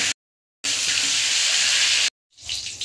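Chicken leg pieces fry gently in oil and ghee, a steady bright hissing sizzle that cuts out twice between stretches, loud and close, with no voices.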